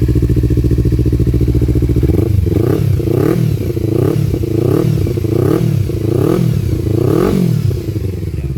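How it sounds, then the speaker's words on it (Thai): A 2015 Z300 motorcycle idles loudly, then its exhaust roars through a series of quick, rhythmic revs, about eight throttle blips in a row. "ฟังเสียงท่อดูนะครับ"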